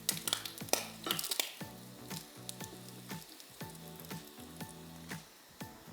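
Bacon and tomato fry in a pan with a continuous sizzle, punctuated by repeated scraping and stirring strokes; no one speaks.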